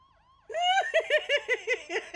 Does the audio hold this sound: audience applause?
no